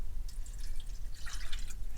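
A cup of water poured into a Hawkins pressure cooker with potatoes and carrots in a van kitchen, a steady trickling splash running close and moderately loud for the whole stretch.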